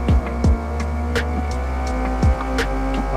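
Car drifting in the CarX Street racing game, with a steady engine hum and several short, sharp thumps and tire-squeal bursts recurring at irregular intervals over the drone.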